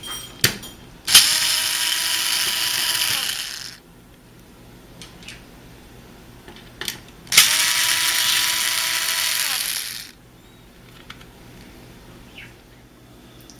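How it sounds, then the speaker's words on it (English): Screws are backed out of the infinite heat switch on a Frigidaire electric range, heard as two long, loud whirring bursts from a powered driver with small clicks and handling noises between them. "So these two screws have to come out."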